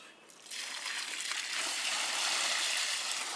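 Water pours and rushes steadily over wheat as it is washed for making bulgur. The splashing begins abruptly, then stays loud and continuous.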